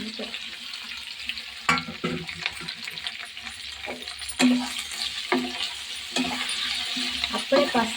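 Sliced okra frying in a pan on a home kitchen stove, a steady soft sizzle broken by scraping stirs and spoon clinks against the metal. Heard fairly close with no talking.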